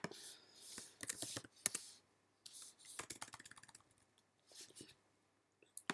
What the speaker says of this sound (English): Typing's going haywire today.